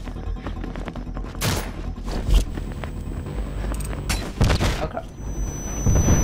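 Grenade explosions in GoldenEye split-screen multiplayer, several loud broadband blasts in quick succession amid gunfire, with a man briefly reacting over them.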